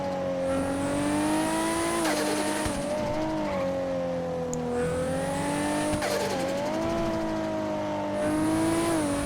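A Toyota Supra sports car engine with 2JZ in a video game (GTA 5) drones steadily with rising and falling pitch as it shifts, with high turbo whine and whooshing, loud and continuous throughout.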